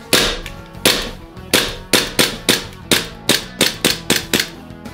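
EMG Hudson H9 airsoft gas blowback pistol giving about eleven sharp, loud, close clicking cracks, spaced irregularly but quickening toward the end, with no talking.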